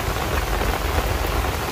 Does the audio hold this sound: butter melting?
no